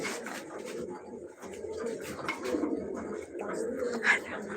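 Pet pigeons coo in low, repeated murmurs that run steadily throughout, with a soft chirp near the end and a bit of background voice mixed in.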